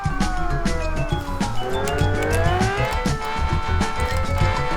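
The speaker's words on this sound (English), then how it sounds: "Quite a lot of wheel spin" Economy car in BeamNG spins its wheels with rising engine revs and a continuous tire squeal, loud and sustained throughout.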